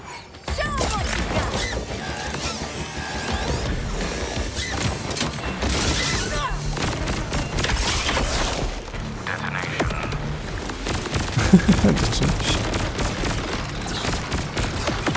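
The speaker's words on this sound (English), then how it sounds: "I think I'm shooting the wall." Rapid gunfire striking a wall in Borderlands 4, a dense continuous fusillade of shots and impacts with mechanical clatter throughout, loud and close, with occasional talk underneath.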